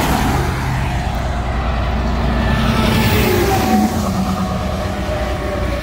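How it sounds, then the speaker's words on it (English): Cars and trucks roll past on a highway beside a truck rest area in Ohio, a loud continuous rumble of traffic with low engine drone and tire noise, steady throughout. "we got cars coming"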